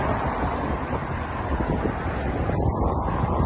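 Strong wind buffets the microphone in a continuous rough roar, loud and unbroken throughout.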